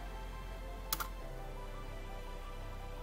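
A couple of quick computer keyboard keystrokes click close by in a pair, then give way to a faint steady hum.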